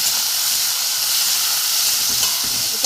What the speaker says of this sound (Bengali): এখানে আমি আলুগুলো আমি এর সাথে ভেজে নেব।